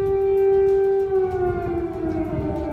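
Civil defense air raid siren wailing continuously, a loud sustained tone that slowly dips in pitch, heard alone.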